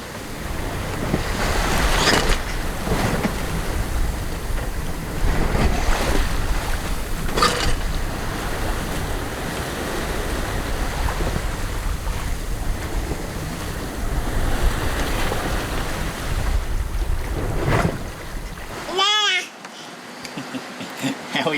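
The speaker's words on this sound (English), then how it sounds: "We're sailing at 7 knots" A sailboat running at 7 knots with the mainsail up near Indonesian islands, hull rushing through swell; loud continuous water wash and wind buffeting the microphone, ending with a short burst of wind noise.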